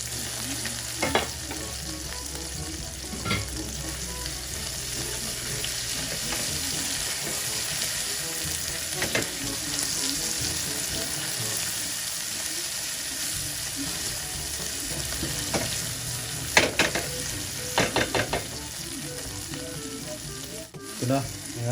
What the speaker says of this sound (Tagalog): Lagay na natin yung bawang at sibuyas.